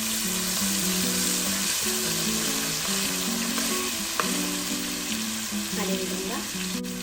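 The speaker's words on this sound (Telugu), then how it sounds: "1 spoon ginger garlic paste add చేసుకొని కొద్దిగా ఫ్రై చేసుకోవాలి" Ginger garlic paste fries in a pan with a steady, close sizzle and occasional stirring scrapes, while faint background music plays under it.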